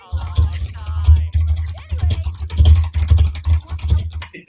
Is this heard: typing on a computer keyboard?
yes